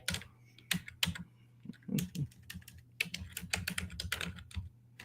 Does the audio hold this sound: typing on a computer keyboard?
yes